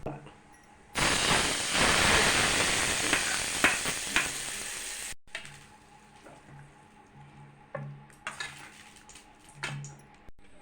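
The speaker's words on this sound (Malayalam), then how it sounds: "ഇത് ഞാൻ അച്ചാറിലേക്ക് ഒഴിക്കാം" A loud burst of sizzling and crackling hot oil with popped mustard seeds poured into mango pickle starts about a second in, hissing steadily for several seconds before quieting to faint kitchen clatter and murmurs.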